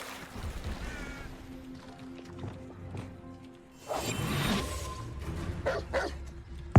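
A dog in the video game Hogwarts Legacy barks in short yips over quiet game ambience and music, with a louder burst of barking and commotion midway.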